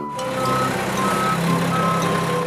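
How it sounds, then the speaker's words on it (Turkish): A concrete mixer truck sounds its reversing alarm in repeated tonal beeps over a steady truck engine rumble, close and continuous across the stretch. "Doğru. İşte bu bir beton mikseri."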